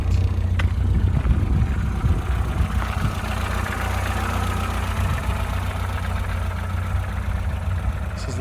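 A modified Mini with a 1275cc engine idles steadily, its exhaust giving a loud, low, even rumble throughout with no talk.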